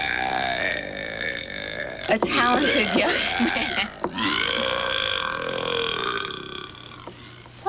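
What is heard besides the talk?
person burping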